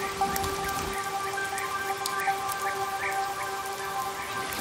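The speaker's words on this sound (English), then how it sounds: "forming an immense tropical rain belt" Heavy tropical rain of the wet season falls in a dense, continuous patter of drops, with a sustained tonal layer running beneath it.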